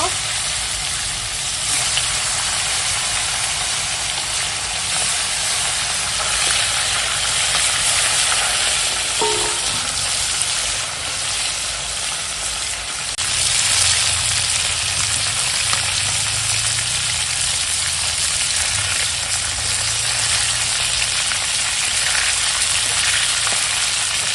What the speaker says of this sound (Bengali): তেল গরম হয়ে গেছে এখন মাছ ভেজে নেবো